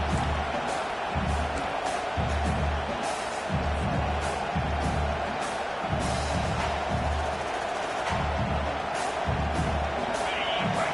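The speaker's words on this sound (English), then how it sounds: "The roar of the crowd trying to fuel this defense to keep them pinned in their own end." A football stadium crowd roars in a continuous, dense wash of noise, with rhythmic low thumps pulsing beneath it throughout.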